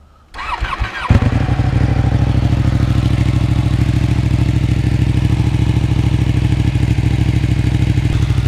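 A 2015 Ducati Panigale 899 sport motorcycle with a race exhaust cranks and fires up, then settles into a loud, rapid, throaty idle that runs steadily and close by.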